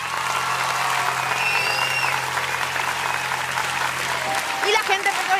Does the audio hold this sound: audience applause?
yes